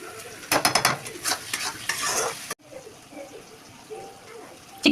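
Chicken leg pieces frying in a kadai for a yogurt chicken dish are stirred with brisk metallic scrapes and clatter. A softer, steady sizzle follows as the stirring stops.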